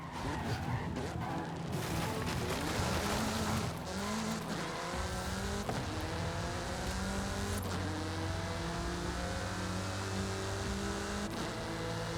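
A car in the racing game Forza Horizon 5 roars as it accelerates hard at speed, its engine note climbing steadily through gear changes with tire squeal and skidding, loud and continuous throughout.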